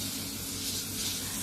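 A hydro dermabrasion facial deep-cleaning spray gun, model AYJ-X13B, gives a steady, even hiss of fine spray, close and continuous, with no talking.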